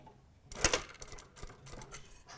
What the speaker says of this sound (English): Stitching in the exact same stitching line as before